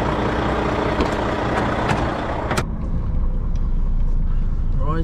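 An HGV lorry engine idles in a yard with a loud, steady diesel rumble and a sharp hiss or clank partway through, while someone talks over it.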